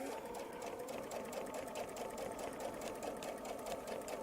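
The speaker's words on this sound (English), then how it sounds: "we're now going to sew back up." A sewing machine stitches steadily around a honeycomb quilting template, its fast, even needle rhythm close and moderately quiet, running alone without pauses.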